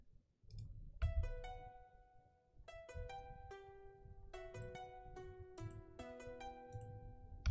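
A plucky synth layer from a second Expand plugin bank plays a descending melodic line of short, bright notes. It sits quietly over a low, rumbling drill beat texture with clicky transients.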